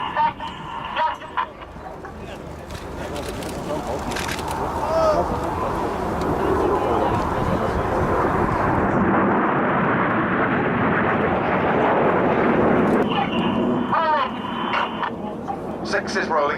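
Royal Air Force Red Arrows jets in a flying display at an air show, a loud sustained broad jet roar swelling and fading overhead as the aircraft pass, with a commentator talking over it throughout.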